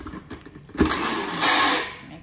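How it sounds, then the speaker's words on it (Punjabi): A kitchen mixer grinder switched on by accident whirs loudly for about a second and a half after a brief click and some rustling, then starts winding down. "ਮਿਕਸੀ ਐਂ ਚੱਲ ਗਈ, ਇੱਧਰੋਂ ਸੁੱਚ ਲੱਗੀ ਹੋਈ ਸੀ"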